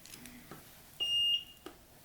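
A kitchen timer beeps near a nail lab workspace, a few short soft blips followed by one sustained steady tone lasting about a third of a second, then a final short beep.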